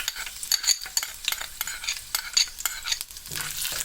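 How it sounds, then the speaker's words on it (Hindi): Crackling, sputtering sizzle of garlic and curry leaves frying in hot oil, with occasional stirring scrapes, steady and close throughout. "मैंने इसमें ऑयल शामिल कर दिया है। अब इसमें ये लहसुन और करी पत्ता ये शामिल कर देंगे।"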